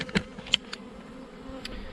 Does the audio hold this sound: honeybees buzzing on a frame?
yes